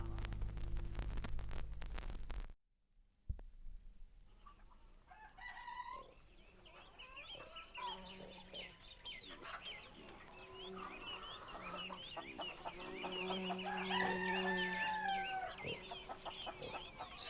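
Chickens cluck and a rooster crows repeatedly among farmyard fowl, the calls fairly close and layered over steady background noise, following a loud burst of music that cuts out near the start.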